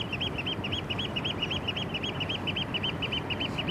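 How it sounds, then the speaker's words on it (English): Birds by the Westerschelde waterway call loudly in a rapid, repeating series of honking cries, sustained over steady wind and background rumble. "The birds are going crazy."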